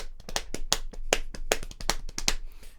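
Hands slapping on thighs as body percussion in a groove, a steady run of sharp, close, dry slaps in a quick even rhythm with no voices.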